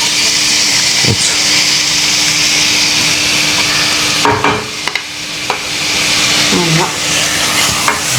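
Whole fish sizzling steadily in a frying pan with onions, with a few brief scraping clicks and knocks as it is stirred, close and fairly loud throughout.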